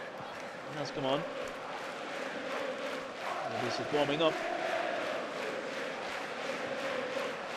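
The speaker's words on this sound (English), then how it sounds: "The crowd are shouting for Edouard Misha." Football supporters at Preston North End against Sunderland keep up a steady chanting roar in the stands, heard beneath a commentator talking over it.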